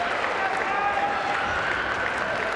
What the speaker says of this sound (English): Big win for Virginia. Crowd is excited.